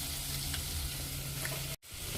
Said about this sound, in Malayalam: ഇഞ്ചി വെളുത്തുള്ളി പേസ്റ്റ്, വേപ്പില, സവാള, മുളക്, വഴറ്റാം.